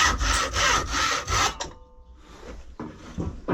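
Hand wood saw cutting through wood using full-length strokes, a loud rhythmic rasping back-and-forth that drops to quieter, lower-toned strokes as the cut nears its end, close up with no talk.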